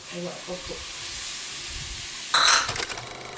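Curry leaves and tomatoes fry in hot oil for chicken biryani, a steady sizzle that swells into a louder hiss as more goes into the pan, with brief talk early on.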